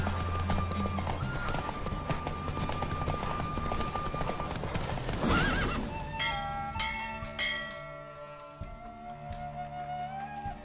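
Rapid clip-clopping hooves from a horse race in The Witcher 3: Wild Hunt drive along with a horse's whinny and a tolling bell, busy game effects layered over a running beat, ending in ringing chimes.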